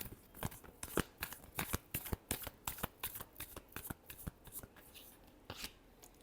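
Tarot cards are shuffled by hand in a close, steady run of crisp riffling snaps, each one sharp and evenly paced, with no talking over them.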